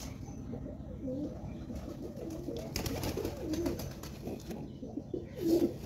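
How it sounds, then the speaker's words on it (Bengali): A pigeon sitting on its eggs coos in soft, low repeated calls under a steady background hum, fairly close and continuous. "এখানে একটা পায়রা বসে আছে ডিমের মধ্যে।"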